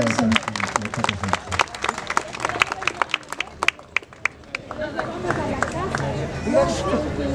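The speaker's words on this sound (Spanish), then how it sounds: "¡Bravo! Un fuerte aplauso." A crowd claps in honour of a midwife at a tribute ceremony, with dense applause and sharp individual claps that thin into crowd murmur and chatter.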